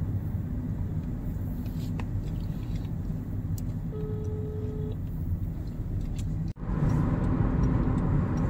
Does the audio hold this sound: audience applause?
no